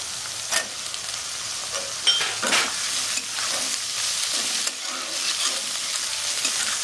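Capsicum frying in a pan for Bengali-style chilli paneer, a loud continuous sizzle broken by sharp spatula scrapes and stirring knocks, close by and with no voices.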